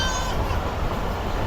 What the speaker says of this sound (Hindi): ट्रेन की कुछ इस तरह की स्पीड है सिंध में एंटर होने के बाद